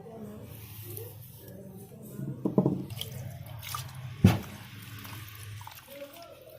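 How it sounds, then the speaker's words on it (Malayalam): Water is poured into a stone-ground masala paste over sardines for a Kerala fish curry and mixed in, with soft liquid splashes and sloshing that swell briefly twice, close and moderate against quiet background. "കുറച്ച് വെള്ളമൊക്കെ ഒഴിച്ച് നന്നായിട്ട് മിക്സ് ചെയ്യുക."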